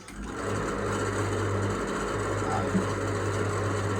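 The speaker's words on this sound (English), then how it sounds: "I'm going to now drill down into that" An electric drill bores down into a stuck piece of wood on a cheap DIY guitar kit, a steady close whirring motor drone that runs continuously after starting up, with a small bump near the end.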